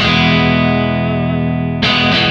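A low guitar string rings out through a Kemper amp with EQ shaping, a thick, distorted grumbling sustain that is then followed by a fresh, brighter strike near the end.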